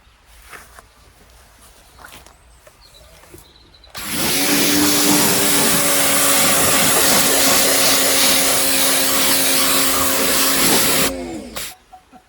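After a quiet stretch, a loud pressure washer starts up and roars steadily for about seven seconds, then cuts off abruptly.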